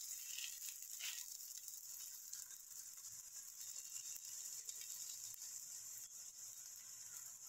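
Methi paratha roasting in butter on a pan gives a steady, faint sizzle and frying hiss throughout, with no talking.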